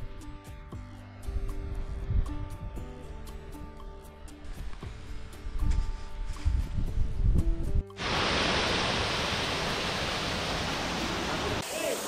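A waterfall pours into a natural pool in Cherrapunji, Meghalaya. Its loud, steady roar bursts in close after a stretch of background music and holds on alone to the end.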